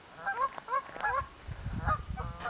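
Dusky Canada geese honking during a banding session, a run of repeated nasal honks from one or more birds close by, with some low handling and shuffling noise beneath.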